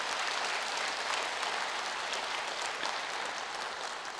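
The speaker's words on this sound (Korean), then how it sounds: "격려의 박수를 좀 보내주십시오" Audience applause in a hall at a Buddhist gathering in Ulsan, a steady, dense wash of clapping from many hands that continues evenly throughout.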